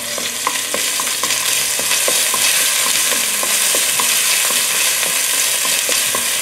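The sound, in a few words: chopped chili frying in Dutch oven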